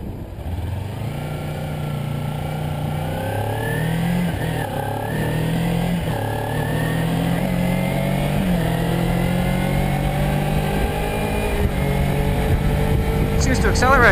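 A Kawasaki Ninja 300 motorcycle pulls away and accelerates on a test ride, its engine note climbing steadily through the gears, loud and close, with rushing wind beneath.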